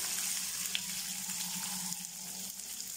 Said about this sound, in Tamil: இந்த எண்ணெயிலே வந்து நல்லா இது வதங்கணும்.